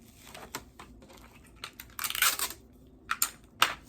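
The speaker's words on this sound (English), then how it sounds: "So I'm gonna tape this down." Tape is pulled and pressed onto a gift box, making scattered crinkly rips and dry crackles in short bursts, close and quiet with no talk.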